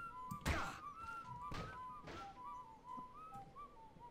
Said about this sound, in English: if I do damage, he starts whistling